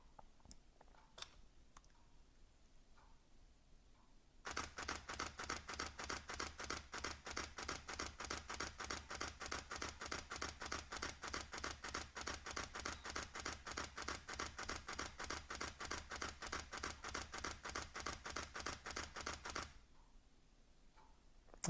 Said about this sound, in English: it's going to use the mechanical shutter, and you'll also see that how it's going to take the picture